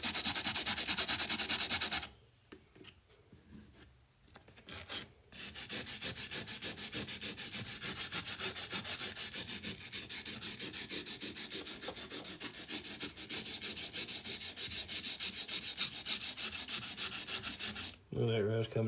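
Rapid abrasive scrubbing of rust off an old metal vise, a dense rasping rub close up that pauses briefly early on, then runs continuously for most of the clip.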